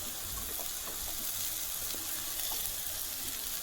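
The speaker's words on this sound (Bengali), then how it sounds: "পেঁয়াজটা একটু ভেজে নেবো।" Onions frying in a pan with already fried vegetables, giving a steady, moderately loud sizzle with faint stirring clicks, heard alone without talk.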